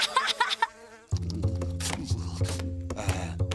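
A fly buzzes in an animated cartoon, a steady droning hum near the listener that rises and dips slightly, following a few brief voice-like sounds.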